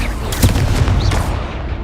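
The Leviosa levitation spell cast in Hogwarts Legacy during spell practice: a loud, sharp magical burst with crackling, whooshing bangs packed into under two seconds.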